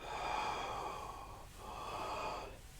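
Slow, deep breathing during a yoga cat-cow pose: a long soft exhale-like rush, a brief pause, then a second airy breath, close and quiet with no talking.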